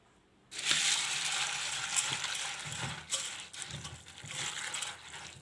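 Water is poured over puffed rice in a large bowl, starting abruptly with a rushing, crackly splash that carries on steadily for several seconds and then tapers slightly.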